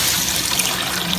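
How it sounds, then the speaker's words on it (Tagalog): Water broth poured into a pot of homemade lomi, a steady splashing trickle close by that runs continuously without a break, with no talking. "lalagyan na po natin ng tubig, ng sabaw."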